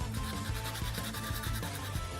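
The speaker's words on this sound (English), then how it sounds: "you have to sand everything until it's smooth and flat on the visible part" A DIY arcade stick bezel for a Madcatz TE2 being sanded smooth by hand, steady back-and-forth rasping strokes in an even rhythm, close and fairly quiet, with no voices.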